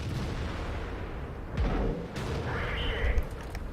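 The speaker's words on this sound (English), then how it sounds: "And I fire at the T-34," A tank cannon fires at a T-34 in a tank battle video game, a heavy booming shot over constant engine and battle rumble, followed by a second blast a moment later.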